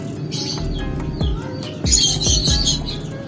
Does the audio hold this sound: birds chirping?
yes